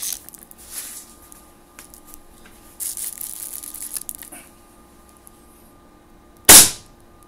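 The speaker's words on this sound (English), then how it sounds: "Managed to take the first shot." A single sharp shot from an FX air rifle fired at a chronograph, loud and brief near the end after quiet background handling noises.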